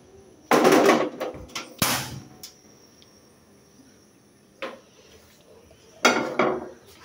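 Cookware clatters as a pot is set onto a stove in a home kitchen: a few sharp metallic knocks and scrapes in separate bursts, with quiet room tone and faint insect chirping between them.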